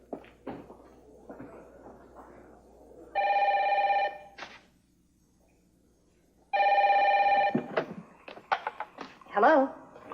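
A telephone ringback tone on an outgoing call sounds in two steady, loud bursts of about a second each, separated by a pause, with a person talking before and after the rings.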